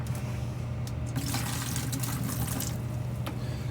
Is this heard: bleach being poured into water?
yes